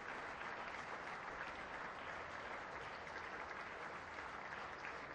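A cricket crowd at Adelaide Oval applauds a captain's half century during a Sheffield Shield match, a steady wash of clapping heard from a distance, faint and continuous throughout.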